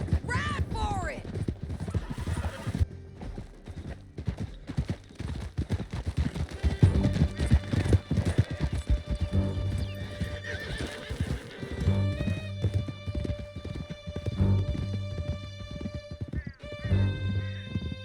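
A horse galloping in Red Dead Redemption 2, with a steady drumming of hooves through a canyon, plus occasional neighs and shots. Characters shout and talk over the ride, with a musical score building underneath.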